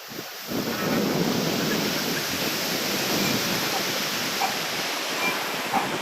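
Floodwater in a swollen river near Mokeshwar dam rushes past in a steady, loud, broadband roar that runs unbroken from start to finish, with no clear voices.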